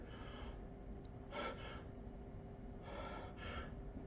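A person imitates apneustic breathing with prolonged inspirations and quick expirations, two faint breathy cycles, each a short paired burst of air, against quiet room noise.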